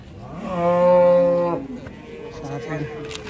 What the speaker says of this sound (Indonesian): ada sapi pedet guys